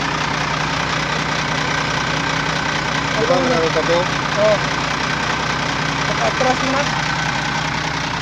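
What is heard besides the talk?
dump truck engine idling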